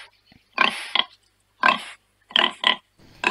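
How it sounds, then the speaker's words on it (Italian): Pig grunts and squeals come in short bursts, about five separate calls spaced irregularly, loud and close with silence between. "Il maiale è l'ultimo animale"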